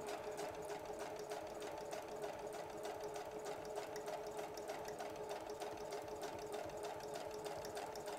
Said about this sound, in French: Vous pouvez arrêter la machine aussi souvent que vous voulez pour aller à la vitesse